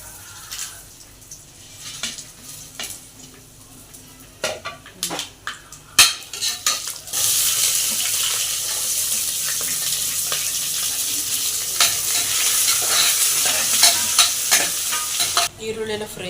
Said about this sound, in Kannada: ಈರುಳ್ಳಿ ಎಲ್ಲ ಫ್ರೈ ಆಗಿದೆ, ಹಸಿಮೆಣಸಿನ್ಕಾಯಿ ಹಾಕ್ತಾಯಿದ್ದೀನಿ.